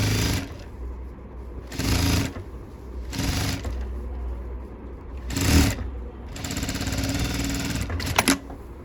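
A sewing machine stitches an arm patch onto the armhole of a sleeveless keyhole-neck blouse, running in several loud bursts with quiet pauses in between and a longer final run, close and with no one talking.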